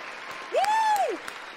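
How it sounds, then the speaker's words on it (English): A short canned applause sound effect of crowd clapping is played. It is brief and moderately loud, with a synthetic whistle-like tone sweeping over the clapping. "Let me get a sound effect here. Round of applause."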